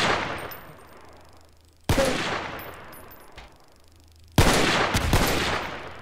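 Gunfire in Garry's Mod DarkRP: three loud, sharp bursts, each ringing out and decaying over a couple of seconds, the later ones harder and more clustered.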